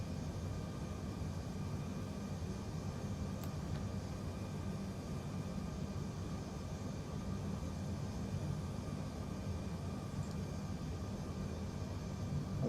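A United Boeing 787-10 on final approach into San Diego in Microsoft Flight Simulator 2020, heard as a steady, faint airliner engine drone with airflow noise and no talk.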